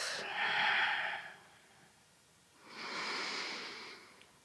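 Two long, slow breaths during a yoga session, each a soft airy rush lasting over a second with a quiet pause between, close and gentle with no talk.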